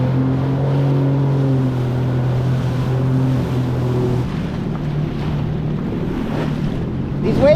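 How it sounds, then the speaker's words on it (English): A Yamaha VX Cruiser personal watercraft runs through rough ocean waves two to over three feet high in steady 12 mph wind, its engine droning loud and close under heavy wind buffeting and water rush. "These waves are big."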